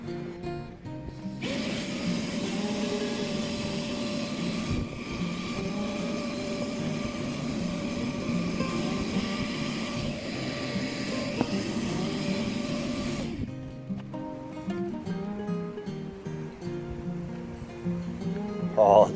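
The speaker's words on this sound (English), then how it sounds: "we'll carry on and vacuum these ones up" A bee vacuum runs at a factory beehive rescue, sucking up bees in a steady, loud motor drone with a mechanical rattle that holds for about twelve seconds and then cuts off abruptly, leaving faint background sounds.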